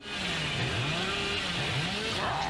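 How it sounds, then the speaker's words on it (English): The Hillbilly's chainsaw from Dead by Daylight revs in a continuous buzzing drone with rising and falling pitch sweeps, loud and close, heard alone. "the real joy comes from his secondary weapon, the chainsaw"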